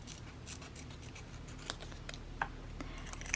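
Scissors snipping paper while setting up a reading journal, a few quiet, scattered cuts over a soft background hum, with a sharper snip near the end.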